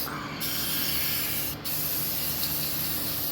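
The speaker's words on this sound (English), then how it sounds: "We'll powder coat the coil bucket while we're at it." Powder coating is sprayed onto a coil bucket for a 1979 Chevrolet G-20 van: a loud, continuous close hiss, broken by two brief pauses in the spray.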